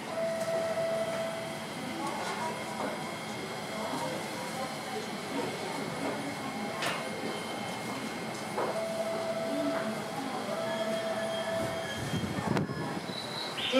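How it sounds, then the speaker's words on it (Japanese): A JR East E231-series train rolls into Kagohara Station on the Takasaki Line with a steady rumble and a high wheel squeal, while a recorded Japanese announcement plays over the platform. "まもなく1番線に列車が参ります。"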